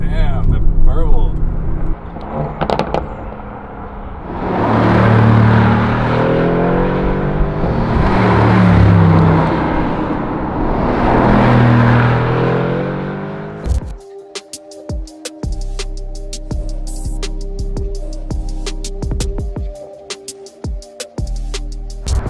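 A 2018 Mercedes-AMG GT R driven at about 65 mph, with an engine drone that swells and eases and then gives way to a crackling, popping exhaust burble. Someone talks over the first part.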